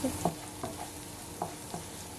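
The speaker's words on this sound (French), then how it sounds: "je vais faire chauffer de l'huile d'olive" Garlic frying in hot olive oil in a large pan gives a soft steady sizzle, with a few brief stirring scrapes on top.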